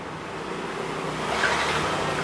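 Yamaha NMAX scooter engine running steadily right after a starter repair, a close, continuous idle hum with a slight rise in intensity partway through, no talking.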